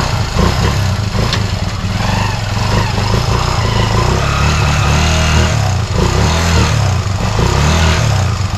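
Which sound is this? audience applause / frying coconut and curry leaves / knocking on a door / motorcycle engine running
motorcycle engine running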